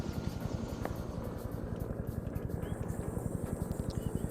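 A helicopter in a Vietnam War video game thumps with fast, steady rotor beats over a loud engine drone, close and continuous throughout.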